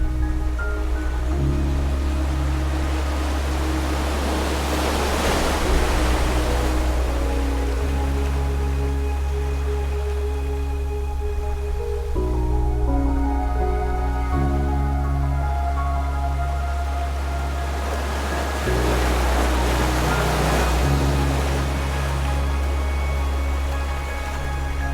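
Ocean waves at a Los Angeles beach wash in as a continuous broad surf roar, swelling into louder breaking crashes roughly every several seconds, with a faint tonal background running underneath.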